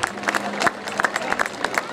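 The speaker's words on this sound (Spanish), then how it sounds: "El aplauso fuerte, vamos a aplaudir fuerte." A crowd claps along at a traditional gaucho-style parade for a town's anniversary celebration, with rhythmic applause and cheering mixed with nearby voices and a brief steady tone.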